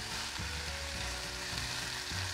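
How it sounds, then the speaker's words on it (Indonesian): Chicken and spring onion are stir-fried in a pan as the liquid cooks down, giving a soft, steady sizzle and bubbling with faint stirring clatter and no talking. "Kita masak tumisan ayam sampai airnya menyusut."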